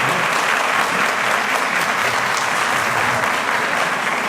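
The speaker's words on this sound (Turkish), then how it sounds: "bir alkışlayalım" A large crowd claps steadily and loudly for several seconds, a dense, continuous wash of applause.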